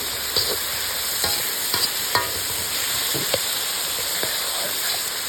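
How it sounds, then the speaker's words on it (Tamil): Tomatoes frying in oil with dried chillies for thakkali thokku at an outdoor kitchen, a constant close sizzle broken by repeated scraping stirs of a spoon in the pan. "வத்தலெல்லாம் பொன்னிறம் ஆயிடுச்சு. தக்காளி போட்டுற வேண்டியதான்."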